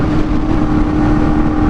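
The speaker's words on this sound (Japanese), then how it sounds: "このホーネットは珍しい2本出しマフラーをもともと装着しておりますので、純正のマフラーよりかはさらに音がうるさくなっております" A Honda Hornet 250 motorcycle fitted with dual exhaust mufflers runs with a steady, loud, gruff engine drone that holds an even level throughout, with no voices.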